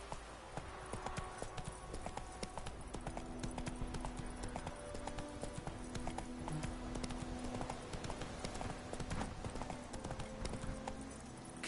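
Horse galloping in the video game The Witcher 3, steady rhythmic hoofbeats running continuously at a quiet level over a faint game soundtrack.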